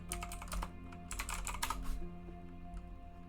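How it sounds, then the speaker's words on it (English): Rapid typing on a computer keyboard with loud bursts of keystrokes, a short pause, then another flurry, fading into quieter sparse taps toward the end. "let me just type that in here"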